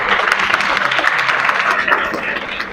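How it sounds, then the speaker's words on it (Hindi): Loud, dense applause from an audience at a gathering, a continuous burst of many hands clapping close by, with no pauses. "उनके लिए जोरदार तालियां"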